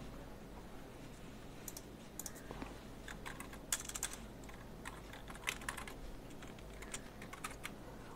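A username is typed on a computer keyboard while logging into a WordPress admin panel, heard as steady, quiet, close key clicks in uneven bursts over a low background hum, with no one talking.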